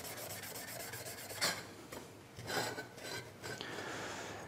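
A stainless steel pipe end is scrubbed clean with emery cloth before brazing, giving soft, close, raspy rubbing strokes with a few louder scrapes, fairly quiet and without speech.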